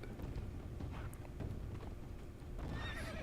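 Horse hooves clip-clop steadily while a horse snorts and whinnies in a video game, with an ambient game-like background.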